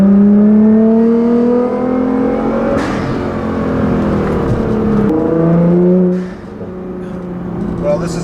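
A tuned 2015 Nissan GT-R with a loud aftermarket exhaust accelerates in third gear, the engine rising in a strong steady climb heard from the cabin, then dropping off with a brief whoosh as the throttle lifts.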